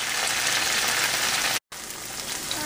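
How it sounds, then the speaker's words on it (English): Steady crackling sizzle of tofu frying in hot oil in a pan, a dense hiss that drops out for a moment and then resumes. "While our tofu is slowly frying"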